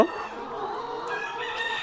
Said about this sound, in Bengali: আমাদের যেমন এখানে খাঁচায় তোলা লেয়ার মুরগি আছে